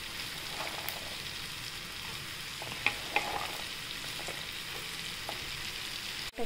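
Washed cluster beans fry in a hot pan with a steady sizzle and occasional stirring clicks and scrapes, close and continuous with no talk.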